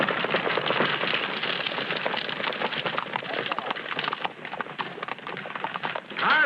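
Horse hooves clip-clop steadily in a 1939 Roy Rogers western, a busy rhythmic patter of many quick hoofbeats carrying loudly and continuously from start to finish with no talk.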